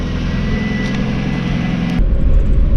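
A 1995 Mazda Miata with freshly assembled front suspension and new struts drives along the road, its engine a steady low rumble under continuous road and wind noise that shifts to a deeper, heavier drone partway through.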